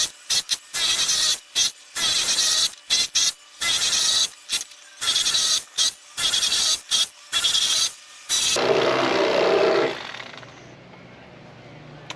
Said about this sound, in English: And I'm just going to cut it in strips.